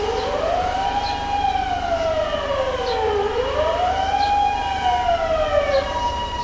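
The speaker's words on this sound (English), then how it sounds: "This one has an ambulance coming through though" An ambulance siren in Tokyo wails, rising and falling in slow, sweeping cycles, loud and steady over a low traffic rumble.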